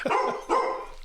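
A household dog lets out two sharp barks in quick succession, close and loud, with nothing else around them.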